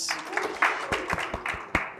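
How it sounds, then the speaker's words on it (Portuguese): An audience at a business talk event claps briefly, a short burst of moderate applause with some voices over it. "Salve de palmas!"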